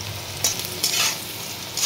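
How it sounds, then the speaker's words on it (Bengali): Onions browning in a pan give a constant bright sizzle, with a few louder bursts of crackle as they are stirred. "পেঁয়াজটা আমি ব্রাউন করে একটু ভেজে নেব।"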